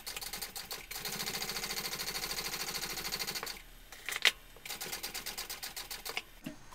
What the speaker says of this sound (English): I'm going to top stitch that in place.